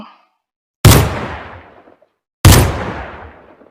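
Two sharp, loud gunshots from a gun in a Minecraft mod game, fired about one and a half seconds apart, each followed by a long fading tail, with no talking.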